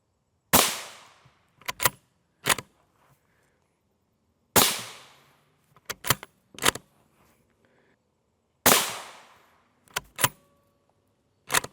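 Three loud M855 rifle rounds fired at a Level IV silicon carbide body armor plate on a range, each sharp crack followed by a few smaller impact and clatter sounds, with quiet gaps between shots.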